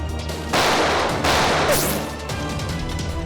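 Loud, sustained burst of gunfire with dense crackling reports, rising into a heavier barrage midway and continuing steadily to the end.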